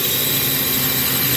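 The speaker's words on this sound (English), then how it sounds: "the electric screwdriver likes to do that little flip move you saw" An electric screwdriver runs in a short, continuous buzzing whir that stays loud and steady and stands alone, with no voices.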